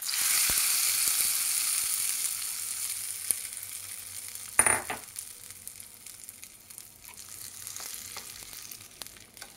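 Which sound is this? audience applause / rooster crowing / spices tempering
spices tempering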